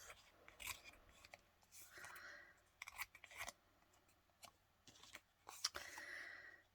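Scissors snip at the fluffy, not-quite-dry edge of a handmade craft piece, a few close, crisp cuts with short pauses between them and no talking.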